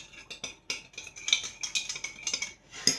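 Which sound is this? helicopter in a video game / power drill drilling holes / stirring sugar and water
stirring sugar and water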